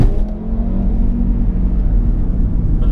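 Audi RS3 five-cylinder engine revving continuously, a loud, steady rumbling drone with a low buzzing tone that rises slightly, heard alone without talk.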